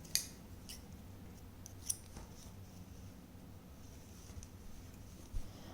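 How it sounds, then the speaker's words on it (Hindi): Scissors snip through crochet thread at the end of a small crochet choli, a few quiet, sharp cuts spaced over a low background hum with no one talking. "यहाँ पर धागा काट देंगे।"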